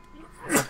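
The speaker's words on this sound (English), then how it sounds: "sneeze again" A single short sneeze close by, rising to a sharp burst near the end after a quiet breathy lead-in.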